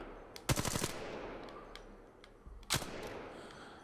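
Gunfire in the video game Apex Legends: two short bursts of rapid automatic shots, the first near 0.5 seconds and the second near 2.7 seconds, loud and sharp, with quieter game sounds between them.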